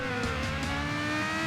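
A car engine revving in the Burnout Legends racing video game, a sustained tonal drone that climbs gradually in pitch as the car accelerates, loud and continuous, with no voices.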